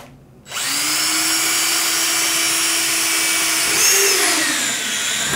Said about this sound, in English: which creates you to drill another hole